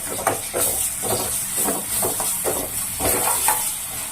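Ginger garlic paste and onions fry in a pan for a gongura mutton curry, giving a steady hiss and sizzle broken by repeated scraping stirs, close and moderately loud with no voices.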